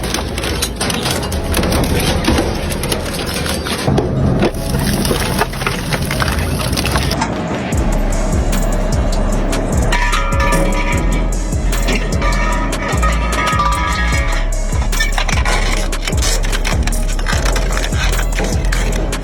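An industrial shredder crushing hard steel: heavy grinding, cracking and splintering under a constant low motor drone, loud and close, with irregular crunching bursts throughout.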